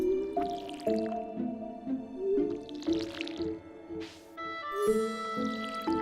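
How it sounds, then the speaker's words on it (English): Water being poured into a cat's bowl in the Stardew Valley farming game, rendered as a run of bubbly, dripping, squishy tones that rise and fall in repeated pulses over several seconds, with no talking. "let's give our kitty some water"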